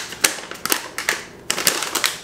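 Plastic Planters dill pickle cashew snack bag being pulled at the tear notch, giving sharp crinkly rips and rustles in two bursts, close and fairly loud with no talk.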